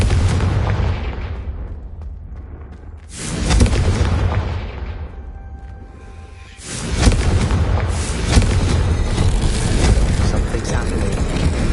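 The Confringo blasting spell explodes twice in Hogwarts Legacy, with two heavy booming blasts separated by a brief lull. Each is followed by rumbling debris, set over a busy background.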